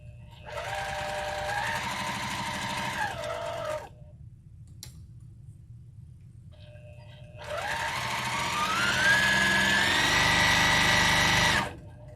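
A sewing machine stitches a small patriotic pillow in two long runs, a steady whirring motor with a brief pause between bursts, the second run climbing in speed and pitch.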